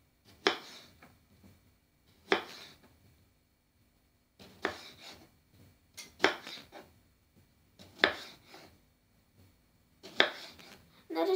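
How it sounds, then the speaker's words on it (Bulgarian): A knife slices a cucumber or tomato into rounds on a board, making six crisp separate cuts spaced about two seconds apart, close and quiet, with no talk. "взимате една краставичка или домат и нарязвате на кръгчета."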